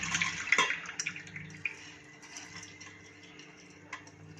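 Soaked pulses poured into a kitchen sieve, with water trickling and dripping through the mesh, a few light splashes and taps early, then a quiet steady drain.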